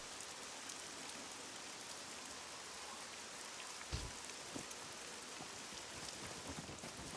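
Steady rain pours in a forest in the survival game SCUM, a dense, even hiss of drops striking surfaces that fills the whole stretch without pause, with one or two slightly heavier patters standing out near the middle.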